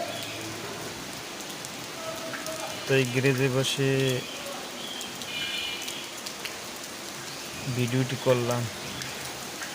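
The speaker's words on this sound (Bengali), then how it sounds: "প্রচুর বৃষ্টি এবং কালবৈশাখী ঝড়" Steady rain falling through a midday Kalbaishakhi storm, heard from inside a garage as a continuous broadband wash, with someone speaking over it in bursts.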